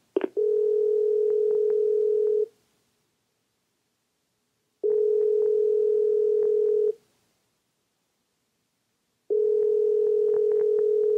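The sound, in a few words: telephone ringing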